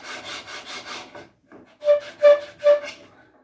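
Hand sanding on wood for a rocking chair: a quick run of rasping back-and-forth strokes, a short pause, then three louder, slower scrubbing passes close by, each with a faint squeak.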